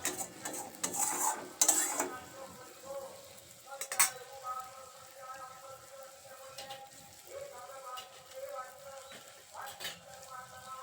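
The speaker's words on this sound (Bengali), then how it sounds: "এবার মশলাটা খুব ভালো করে ভেজে নেব আর এই সময় গ্যাসের ফ্লেমটা লো টু মিডিয়ামে রাখতে হবে নাহলে মশলাগুলো পুড়ে যাবে" Spice paste fries in a pan over a low-to-medium gas flame, a faint, soft sizzle broken by a few louder scraping clatters of stirring.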